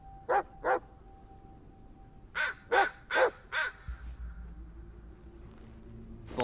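Crows caw in the Blair Witch game, two harsh calls followed by a quicker run of four, fairly close, before the calls give way to a low rumble.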